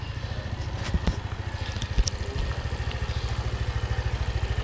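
Motorcycle engine idles with a steady rapid low thumping pulse, close by, with a few clicks and clatters over it and no talk.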